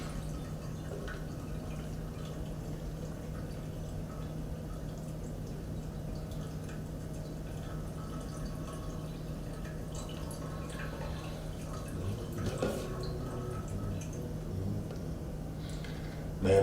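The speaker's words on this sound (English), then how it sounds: "So now we just want to pour it in our bottles." Bourbon and Coke glaze being poured into bottles: a faint, steady liquid trickle and drip over a low kitchen hum, quiet and continuous with a small clink near the end.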